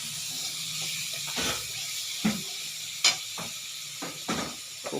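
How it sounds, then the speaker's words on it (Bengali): Tomato paste sizzles in a hot pan with spices, a steady low frying hiss with a few sharp spikes as it is stirred, quiet and close with no talking. "এবার দিয়ে দিলাম টমেটো বাটা"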